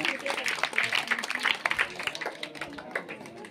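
An audience at a school essay-writing prize ceremony breaks into a dense, moderately loud patter of hand clapping that continues throughout and slowly eases off toward the end.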